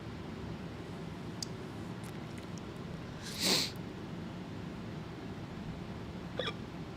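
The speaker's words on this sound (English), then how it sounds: "I got the hiccups" A man gives a single sharp hiccup, loud and close, over a steady background hiss, with a couple of faint clicks before and after.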